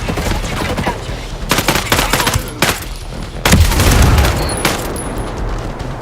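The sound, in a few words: frag grenade explosion and gunfire in video game Ghost Recon Breakpoint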